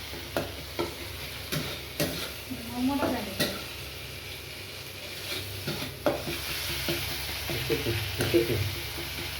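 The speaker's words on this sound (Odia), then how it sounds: "ମାନେ ଡାଲି ଛୁଙ୍କ ହେଉଛି।" Dal being tempered in a hot pan in a home kitchen, a soft steady sizzle with scattered clinks and stirring scrapes, faint and close, with no talk over it.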